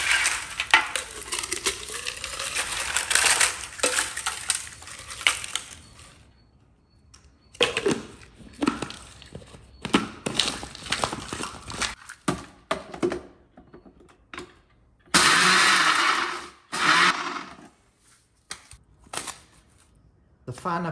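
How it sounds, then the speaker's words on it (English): A blender grinds eggshells into fine powder, with loud rattling, crunchy bursts that start and stop in several pulses and stretches of quiet between them, close to the listener. "we're going to take our blender and throw our eggshells in there"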